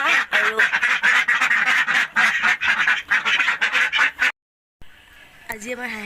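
A flock of twelve domestic ducks quacks loudly and busily in rapid overlapping calls for several seconds, then falls silent briefly before a voice and a few softer calls follow.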